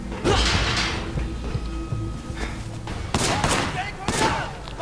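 Bursts of gunshots in the video game Sleeping Dogs, loud and close, with several sharp volleys near the end over a busy game soundtrack.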